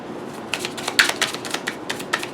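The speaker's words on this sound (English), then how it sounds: "Do a quick little shuffle." Quick crisp riffling of tarot cards, a rapid series of soft papery flicks and taps, close by, with no voices.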